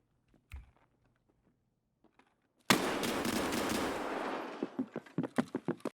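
Gunfire in the video game Escape From Tarkov: one distant pop, then a sudden loud burst of sustained automatic fire that breaks into rapid separate shots, close and dominant.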